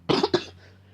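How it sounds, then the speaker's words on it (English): A woman coughs twice in quick succession during a coughing fit, close and loud, with quiet room tone afterward. "I was having a coughing fit"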